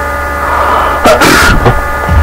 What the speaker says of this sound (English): Sorry, I sneezed.